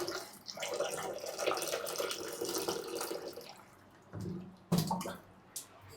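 Tap water runs steadily into a container in a home kitchen, a broad splashing wash for about four seconds, then brief bursts of flow and clatter after a pause.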